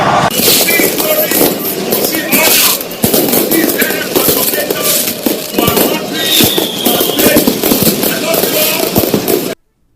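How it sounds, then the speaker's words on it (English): New Year fireworks set off at Fun Sport in Port Harcourt crackle and bang in rapid, dense volleys, loud and continuous, with crowd voices underneath, then stop abruptly. "Others gathered at Fun Sport to light up their fireworks"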